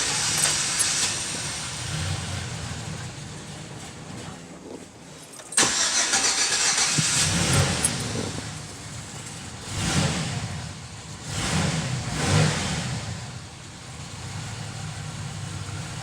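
A Chevy Silverado with a 4.3L V6 and a newly replaced distributor cranks and catches, then settles into a steady, close idle with a few revs rising and falling. No one talks.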